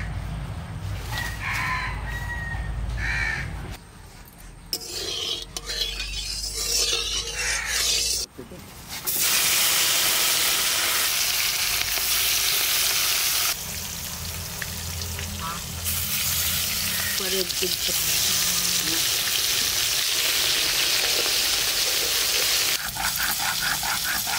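Mustard oil hits a hot wok in a village kitchen and bursts into a loud, continuous sizzle, while roosters crow and fowl cluck in the background and a voice is heard faintly at times.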